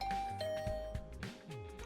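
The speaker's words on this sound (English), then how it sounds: "I took a deep breath and rang the bell." A doorbell rings at a room door in a video game, a clear chime with bright sustained tones over a soft musical background, no speech.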